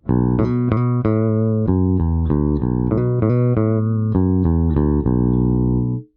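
Deep Eastwood Hooky Baritone Pro guitar picking a bass line, one note after another in even rhythm, with a fuller, boosted low tone up close.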